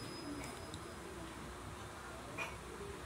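Pigeons coo softly in a loft, low murmuring calls against a steady background hum.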